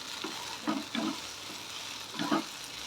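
Okra sautéing in a kadai for a Tamil egg poriyal, a steady soft sizzle broken by three or four scraping stir strokes, close and alone.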